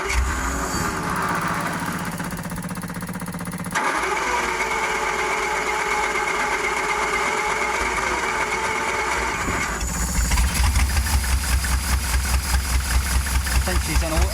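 A Daimler 250 V8 that is short on fuel delivery runs rough and lumpy, its note shifting abruptly twice before settling into a louder, pulsing idle with rhythmic beats near the end.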